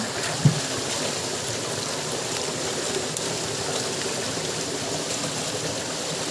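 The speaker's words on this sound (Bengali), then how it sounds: "বস্তাগুলো নাড়াচাড়া করে ওয়াশ করা হচ্ছে" Hot water splashes and gurgles steadily as bags of rice seed are washed in it, with one brief knock near the start.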